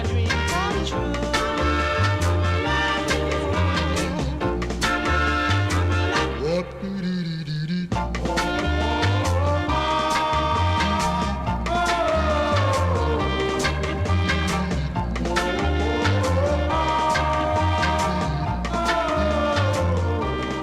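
A 1964 soul record plays steadily and full, with a lead vocal, backing harmonies and a band carrying on without pause, apart from a short dip in the middle.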